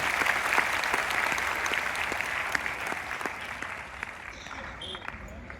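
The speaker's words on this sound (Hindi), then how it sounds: "जोरदार तालियां हरियाणा के लिए" Sustained applause from an audience in a university auditorium at an orientation program in Hisar, dense and steady throughout, with a few faint voices rising near the end.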